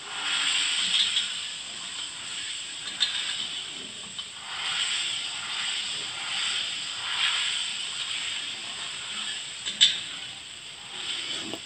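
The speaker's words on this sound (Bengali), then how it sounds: "জিরে গুঁড়োটা আদার সঙ্গে মিশিয়ে খুব ভালো করে ভেজে নেব একটু" Ground cumin and ginger fry in a pan for a vegetarian ridge gourd curry, giving a steady soft hiss with occasional small pops, close and even, no voices.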